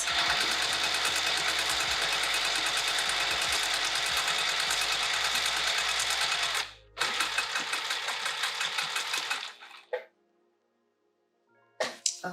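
A sewing machine stitches a Plover Pouch kit in steady rapid bursts, running continuously at first, then stopping and restarting in slower, shorter runs around curves before falling silent.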